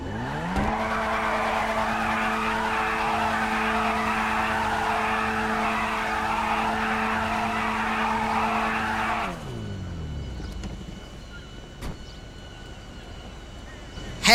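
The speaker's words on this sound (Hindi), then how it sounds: "घूमते हुए एक बर्नआउट हो जाए" A car burnout in GTA 5, a steady loud tire squeal over a droning engine that holds for about nine seconds, then cuts off and leaves quieter engine rumble and a few faint clicks.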